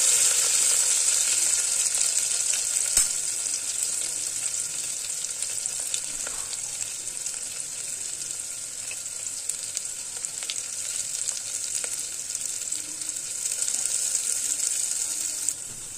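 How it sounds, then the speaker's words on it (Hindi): Diced potatoes fry over a medium flame while being stirred now and then, giving a long, steady, close sizzle with occasional faint utensil taps and no speech. "आलू को हम गोल्डन ब्राउन होने तक भून लेंगे। मीडियम फ्लेम पे इसको चलाते हुए भूनना है।"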